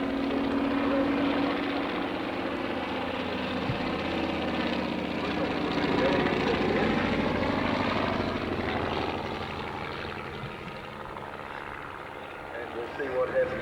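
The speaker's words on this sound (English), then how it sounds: "Grant's SE-5 and the Fokker triplane demonstrates the leisurely nature of the aerobatics performed by these aircraft" Vintage SE-5A biplane and Fokker triplane performing slow aerobatics at the 1994 Warbirds Over Wanaka airshow in New Zealand, a steady droning propeller-engine hum that stays fairly loud throughout, fading slightly near the end, with commentary talk over it.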